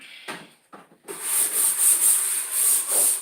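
A brush scrubs with bleach in quick, repeated rubbing strokes, close and fairly loud, after a few brief scrapes and short pauses.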